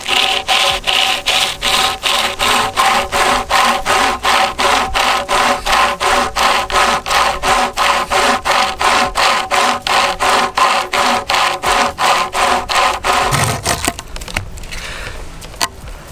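Rhythmic back-and-forth strokes of a Nordic pocket saw cut through a thicker piece of wood, a steady rasping pulse about two strokes per second, close and loud, stopping abruptly as the cut finishes.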